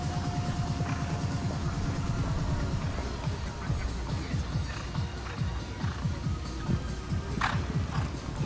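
Horse hooves clip-clopping in a steady, rhythmic gait throughout at a show jumping event, fairly close and clear over a busy outdoor background.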